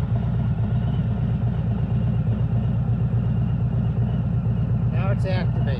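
Running Harley motorcycle engine with its EITMS rear-cylinder deactivation system engaged: a loud, steady, low rumbling idle throughout, close by, with a brief voice near the end.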